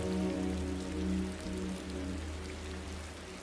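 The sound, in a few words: thunderstorm with heavy hail and rain sound effect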